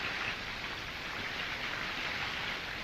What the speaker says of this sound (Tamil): மழை வர பெய்யுதா?